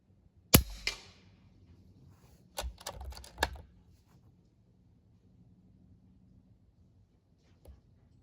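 A Caiman X .22 airgun fires outdoors: one sharp, close crack, a quick run of mechanical clicks a couple of seconds later, then near silence with a faint tick at the end.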